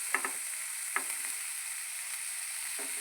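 Grated cabbage fries in a pan with a soft, steady sizzle and a few light stirring scrapes now and then, and no voices over it.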